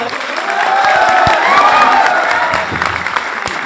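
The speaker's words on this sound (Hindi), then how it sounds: "बहुत जोरदार तालियां" A burst of enthusiastic applause from a crowd, loud and steady, fading slightly toward the end.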